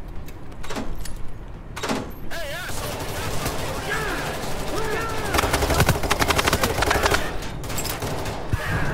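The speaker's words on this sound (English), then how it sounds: "Yo, why is this guy shooting at me?" Gunfire in the video game Payday 3, rapid bursts of automatic shots and scattered single cracks layered over a busy game soundscape, fairly loud and near.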